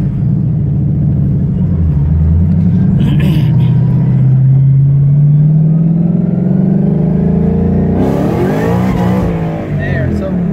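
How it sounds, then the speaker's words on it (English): A Ford Mustang with a T56 manual gearbox and 4.10 gears accelerates hard in first gear with traction control off, its engine note climbing in a loud, rising roar before a brief break and rougher revving near the end. "do a first gear romp, take traction control off"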